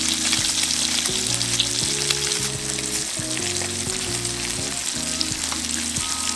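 A blackened salmon fillet, a thick piece, sizzles steadily in a hot pan, the frying hiss loud and continuous throughout, with background music playing underneath.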